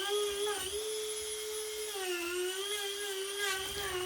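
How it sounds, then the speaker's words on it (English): Steady high-pitched whine of a small rotary tool runs continuously with slight pitch dips, close up, while it sands down the edges of a cured resin art lamp with artificial flowers. "I went ahead and sanded down the edges of my project."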